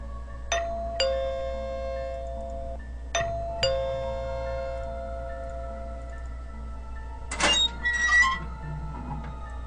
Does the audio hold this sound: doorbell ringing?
yes